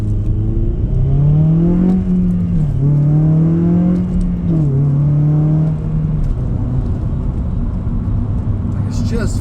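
A 2007 Honda Civic Si with K20 engine and 6-speed gearbox pulling hard from inside the cabin, its engine note rising through two or three gear shifts with brief dips, loud and continuous.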